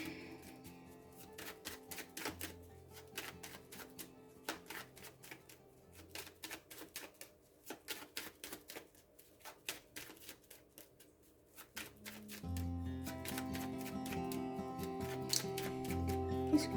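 A deck of cards for a card draw being shuffled, with soft irregular riffling clicks, then a denser, louder shuffle near the end, quiet and close with no voices.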